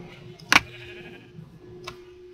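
A sheep in the video game Minecraft lets out one sharp, short bleat, followed a little later by a fainter second call against quiet background hum.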